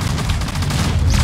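Gunfire in Fortnite, a quick close burst of several loud shots firing in rapid succession over about a second, dense and punchy with no pauses and no talk.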